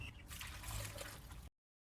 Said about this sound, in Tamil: நல்லா தண்ணி ஊற்றுவோம். நிறைய தண்ணி.